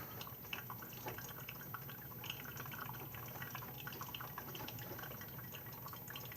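A new Mr. Coffee coffee maker drips brewed coffee, a faint, continuous patter of small drops and trickling liquid heard close up in a quiet room.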